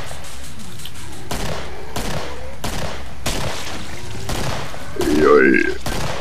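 Rapid gunfire bursts from a Killing Floor firefight, repeated broadband blasts spaced roughly a second apart, with a voice talking over the shooting and a louder tonal burst near the end.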